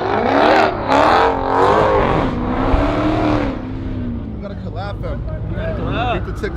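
A car fitted with an aftermarket exhaust revs loudly at a pit meet, its engine rising and falling in a rough, close roar while people talk over it.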